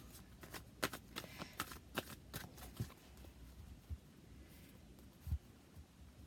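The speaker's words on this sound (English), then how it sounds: "after a shuffle" A deck of tarot cards being shuffled close by, a series of crisp riffling flutters and soft taps in an irregular rhythm, quiet and alone with a few light knocks near the end.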